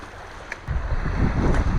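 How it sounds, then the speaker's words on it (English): Waves slosh and slap around a small rowboat on open water during a fishing and camping trip, a close, rising wash of water and wind that grows louder midway, with no talk. "Man, the waves are pumping."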